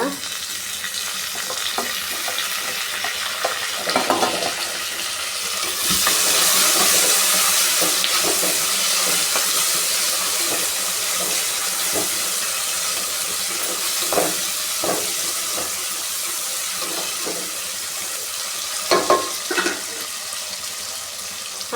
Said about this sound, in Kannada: ಈರುಳ್ಳಿ ಫ್ರೈ ಆಗಲಿ ಟೊಮೊಟೊ ಹಾಕೋತಾ ಇದ್ದೀನಿ ಈಗ